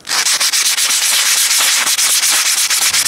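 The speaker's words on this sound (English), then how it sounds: "I put this on a belt sander just to get a nice, even" A belt sander strips the finish from a steel knife blade from a DIY knife-making kit, giving a loud, rough, continuous abrasive rasp with rapid rhythmic pulses as the blade is pressed and shifted against the belt.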